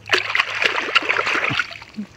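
Live native crabs splash and slosh as they are washed in water, with busy, close splattering and gurgling across the whole stretch and a brief heavier slosh near the end.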